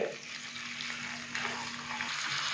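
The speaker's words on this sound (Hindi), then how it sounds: "तो मीडियम से लो फ्लेम पे हम इसको तकरीबन 4 से 5 मिनट के लिए फ्राई करेंगे पहले" Large desi chicken pieces sizzle in cooking oil over a medium-low flame, a soft, steady frying hiss close by with faint crackles and a low background hum.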